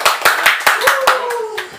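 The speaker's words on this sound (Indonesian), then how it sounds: "Wih, tepuk tangan dulu." A handful of people clap in a quick, steady rhythm close by on a comedy podcast set, about eight crisp claps while a voice carries on underneath.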